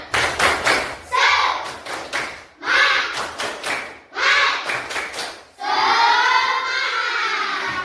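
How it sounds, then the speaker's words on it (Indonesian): A group of children claps in a quick rhythmic pattern, stopping and restarting in bursts, then breaking into a loud shouted chant together. "Tepuk semangat."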